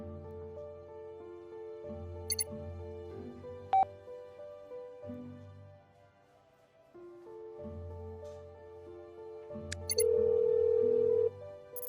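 A telephone rings in repeated bursts before a voicemail greeting, the tones steady and fairly clear, with a brief higher beep near the end.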